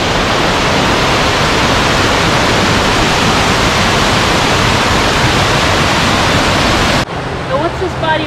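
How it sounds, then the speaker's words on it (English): Cayuga Falls, an 11-foot waterfall on Kitchen Creek along the Falls Trail in Ricketts Glen, roars as a loud, steady broadband rush of falling water that cuts off abruptly near the end, leaving quieter ambience. "Our third waterfall is Cayuga Falls at 11 feet."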